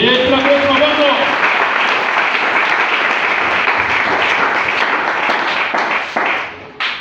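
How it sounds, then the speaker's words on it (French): A church congregation applauds in praise, a loud, dense burst of clapping filling the room for several seconds before tapering off, with a voice calling out at the start. "Applaudissons le Seigneur."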